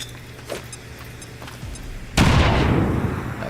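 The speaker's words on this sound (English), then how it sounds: "I hit him with 1 more grenade from Plattenwald" A grenade blast in a combat video game bursts in loud and close midway, its broad boom rolling into a long, slowly fading rumble after a few quieter clicks and small pops.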